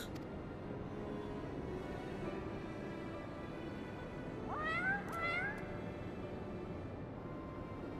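In the Final Fantasy XIV video game, the black cat Schrödinger gives two short meows in quick succession over a steady background hum of game ambience.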